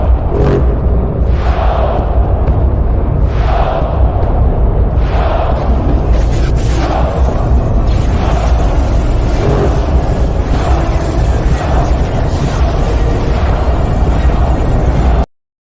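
Loud explosion stream-alert sound effect, a continuous roaring barrage of bursts and booms with repeated sharp blasts, cutting off abruptly at the end.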